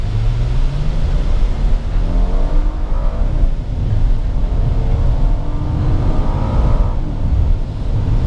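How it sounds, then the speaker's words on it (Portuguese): A 2014 Hyundai Santa Fe accelerates hard from a standstill, its engine note rising steadily through the gears in a loud, close, continuous roar with brief dips at each shift. "Vamos tentar acelerar o máximo que a gente puder aqui, aproveitar que o trânsito tá livre"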